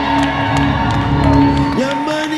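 A crowd at a live entrepreneurship event whoops and cheers as a speaker is introduced, with loud shouting voices and a sustained sung or held vocal tone over light clapping in the room.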